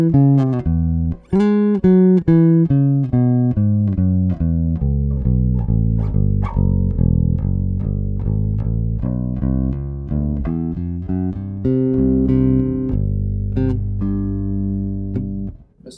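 A Spector NS Pulse 4 bass guitar played through an amp with the treble boosted, a steady stream of plucked notes and slides with a bright, biting attack, close and loud with no talking.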